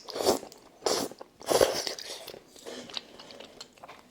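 Close, crunchy bites and chewing of budae bokkeum stir-fry with udon noodles, several distinct bursts in an uneven rhythm, quiet and alone without talk.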